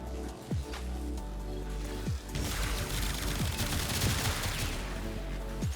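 Rapid bursts of gunfire from the Torrid gun in a video game crackle continuously and loudly, with sharp repeated shots and booming impacts layered over a steady background score.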